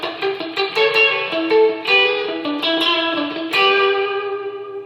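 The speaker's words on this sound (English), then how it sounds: "You just need that Fender tweed sound, and then you need single coil guitar, and you need some spring reverb." Single-coil electric guitar played through a Fender Mustang GTX100 amp with a tweed-style tone and spring reverb, strummed chords and plucked notes ringing out with a wet, slightly drippy decay, loud and close with no talking.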